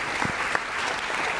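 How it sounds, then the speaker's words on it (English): Classroom audience in a Yale game theory lecture applauds its student players, a brief, even patter of many hands clapping at moderate loudness, with no speech over it. "So a round of applause for our players."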